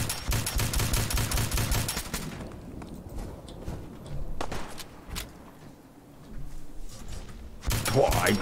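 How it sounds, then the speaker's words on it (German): Gunfire in the Fallout 4 video game, a dense burst of rapid shots up front, then scattered single cracks and impacts through a quieter stretch, with a loud flurry returning at the end. "Boah, ein Schuss."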